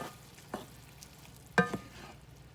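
A spoon stirs melted butter into green beans in a pan, making a few scattered clinks and scrapes and one sharper knock against the pan over a soft sizzle.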